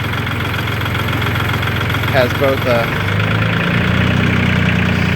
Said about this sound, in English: Okay, so the tractor's running right now.